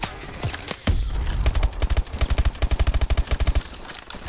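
Rapid automatic gunfire from the Call of Duty Advanced Warfare shooter: a loud, close burst of evenly spaced shots runs through the middle, preceded by scattered single bangs and ambient game noise.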